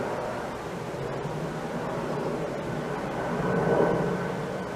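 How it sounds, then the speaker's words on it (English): Airplanes pass over a city, a steady broad jet roar from far off that swells slightly near the end, heard outdoors at an urban farmers market on an October morning with no speech. "That's why you hear the airplanes."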